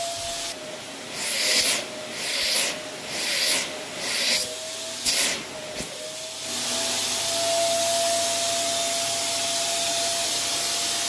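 Air rushes into a homemade vacuum forming rig, heard as a steady loud suction roar with a faint whine. Several bursts of rubbing and hissing come first, then a continuous draw runs to the end.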